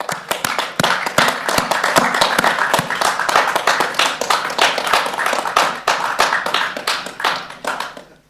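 Small audience clapping after a talk on a Warwickshire eclipse, a room of hands applauding with distinct individual claps close by, a steady patter that holds for about eight seconds and then fades out.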